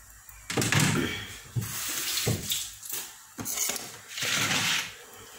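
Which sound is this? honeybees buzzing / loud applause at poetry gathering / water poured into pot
water poured into pot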